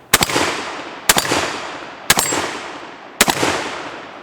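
Four loud Beretta A300 Ultima Patrol shotgun blasts at steel plates, each a sharp report with a quick metallic ring and a long fading echo, spaced about a second apart outdoors.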